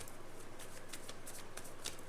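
A tarot card deck being shuffled at close range, a quick run of soft papery riffling flicks, quiet, with no voices.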